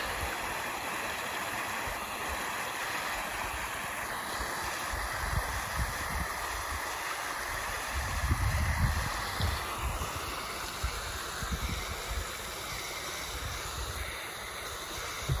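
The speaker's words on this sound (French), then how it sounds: "Voilà la petite cascade que je cherchais." A small waterfall cascade in the snowy Auvergne mountains, a steady broadband rush of falling water heard close and constant, with some wind buffeting the microphone and no talk.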